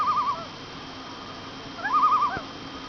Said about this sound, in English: Right now we're hearing a bird here. It's a spotted sandpiper.